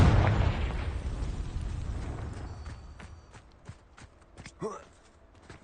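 Confringo fire spell blast in Hogwarts Legacy: a loud booming burst at the start that decays into a long rumbling tail, followed by scattered smaller pops and impacts, with game voices speaking near the end.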